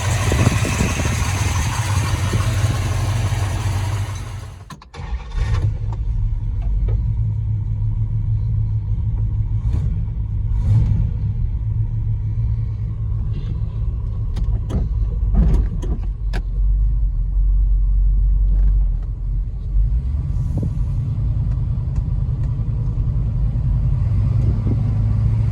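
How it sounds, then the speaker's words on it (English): A 1972 Plymouth Satellite Sebring Plus with a 440 V8 drives along, its deep low engine rumble steady and prominent from inside the car, broken by a brief dip and occasional faint clicks and knocks. "Driving the 72 Satellite. Drives just like a normal car."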